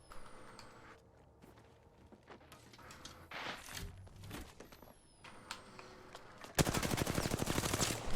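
Gunfire from an Xbox video game, scattered shots and bursts at moderate level, ending in a loud, dense rapid burst of automatic fire in the final seconds.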